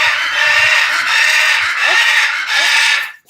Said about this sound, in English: It's parrots.